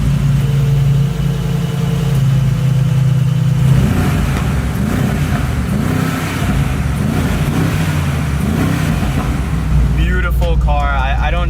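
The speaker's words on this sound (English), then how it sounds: "That's got to be the V8. And let's do a startup and rev." A Mercedes G63 V8 starts up and settles into a deep idle, then revs several times in loud rising and falling bursts, with people talking over parts of it.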